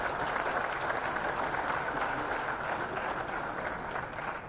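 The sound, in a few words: audience applauding at policy launch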